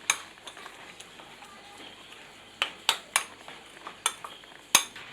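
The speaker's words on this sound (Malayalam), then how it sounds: "നല്ലവണ്ണം മിക്സ് ചെയ്ത് കൊടുക്കണം കേട്ടോ." Beetroot pachadi with ground coconut paste being stirred in a pan, with a steady low scrape and faint sizzle broken by several sharp metallic clinks of the spoon against the pan's rim, close and alone.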